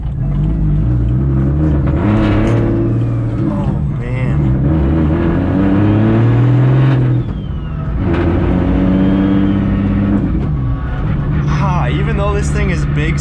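A 750 hp single-turbo BMW 135i accelerates hard, its engine roaring and revving loudly from inside the car in surging waves, with someone talking over it.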